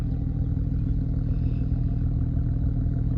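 A Porsche 911 Carrera (991.2) engine idles steadily up close at a car show, a low continuous rumble with no revving or voices.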